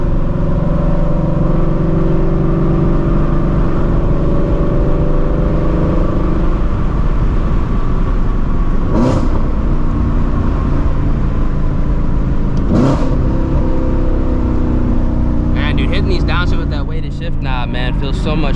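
A Ford Shelby GT350 with a 5.2-litre engine and aftermarket headers runs loud and steady, with a droning exhaust note, two sharp transient spikes and a rising rev toward the end.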